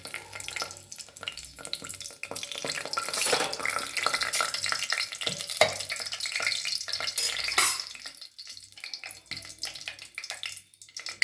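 Two or three leaves dropped into heated oil for a simple palav crackle and sizzle in a steady broadband hiss with stirring scrapes, fairly close, with no voice over it.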